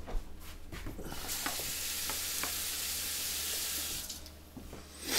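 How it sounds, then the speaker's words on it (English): Tap water runs steadily for several seconds as hands are washed under it in a kitchen sink, a broad continuous rush that fades near the end, with no talking. "So I'll wash my hands."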